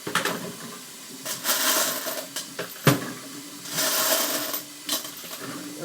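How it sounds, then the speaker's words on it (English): Fired brass cartridge cases are poured into a bucket of warm water, giving bursts of clattering, splashing metallic rattles that come and go in several pours, close and fairly loud, with no talk. "And I'll start dumping my brass in."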